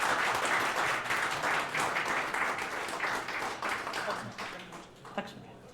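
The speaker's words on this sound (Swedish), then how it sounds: "Än en gång en varm applåd för Olle." Audience applause at a Swedish coffee championship, a warm, steady round of clapping that gradually fades, with a voice briefly audible near the end.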